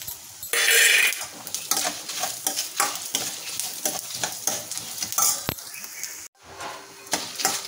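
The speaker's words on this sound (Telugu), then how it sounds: "ధనియాలు, జీలకర్ర, మెంతులు, ఎండుమిర్చి వేగిపోయాయండి" Coriander seeds, cumin, fenugreek and dried red chillies roasting in a pan, with a steady dry sizzle and repeated scraping and stirring clatter against the metal throughout.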